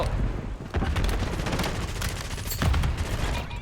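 Rapid game gunfire from Call of Duty: Black Ops 7 on PS4 Pro, a dense, loud fusillade of shots and bursts that runs throughout, with sharp, heavier cracks near the start and around the middle.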